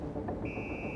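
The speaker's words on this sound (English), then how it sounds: "It triggered an alarm." A steady electronic alarm tone from an NPC in the game Star Citizen starts partway through and holds, faint against a busy game background.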